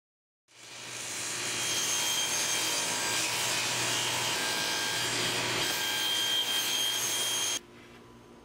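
A power tool trims the ends of glued wooden border pieces for a giant chess board, giving a loud, steady whirring cut that holds for about seven seconds and then stops abruptly.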